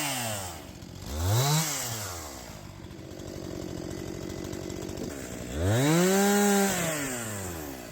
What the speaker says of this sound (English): So this is an ASMR chainsaw video.